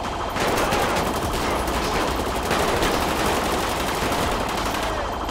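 Dense, continuous gunfire in the GTA 5 video game, rapid automatic bursts overlapping with no pause, loud and up close for the whole stretch.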